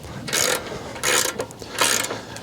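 A wrench ratchets up close in three quick bursts while lock nuts are tightened during assembly of a Superhandy 25-ton log splitter, with short pauses between the bursts.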